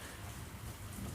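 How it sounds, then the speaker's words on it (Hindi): Heavy rain pouring down in Delhi, a dense, constant roar of drops on surfaces, loud and close with a low rumbling undertone, no voices. "बारिश भयंकर हो रही है"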